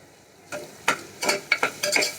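A spoon stirs and scrapes dried-fish curry masala with pepper powder as it sautés in a pan, a faint sizzle broken by about five distinct clattering stirs at irregular intervals, close and moderately loud.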